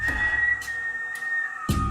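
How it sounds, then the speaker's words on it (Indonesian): A thin, steady whistled tone holds on one high pitch for about two seconds, faint and hollow, with a few soft knocks underneath. "Ini suara siulnya dengerin."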